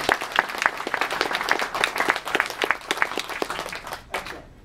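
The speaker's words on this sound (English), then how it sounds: "big round of applause for Wool Garage" Lively applause from a small hobby robotics club meeting audience, close individual claps mixed into a steady patter for several seconds, thinning out and fading at the end.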